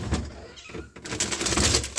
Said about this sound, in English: my cat's begging, like always